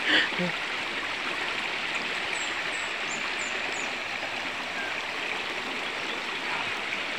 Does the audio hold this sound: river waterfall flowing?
yes